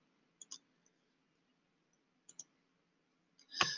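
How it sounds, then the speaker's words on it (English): A computer mouse clicks sharply in quiet pairs with pauses between them, ending in a slightly louder cluster of clicks, all close and faint against near silence. "And if you click on the exam section,"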